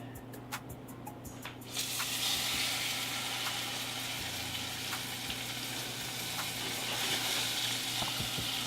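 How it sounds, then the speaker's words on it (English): A steady close sizzle of something searing in butter in a hot pan, starting with a few light taps and then settling into a continuous frying hiss that runs throughout with no talk. "Searing it in butter will cause it to do more browning."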